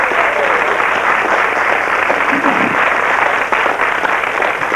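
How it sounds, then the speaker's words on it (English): Studio audience on a 1992 British game show giving a big round of applause, a loud, continuous, even roar of clapping sustained from start to finish. "A big round of applause, please."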